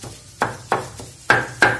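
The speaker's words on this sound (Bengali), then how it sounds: "দেখুন, এভাবে থেতো করে নিচ্ছি" Four sharp, close knocks as ingredients for pabda fish oil paturi are pounded on a shil-pata grinding stone, spaced unevenly, with no talk.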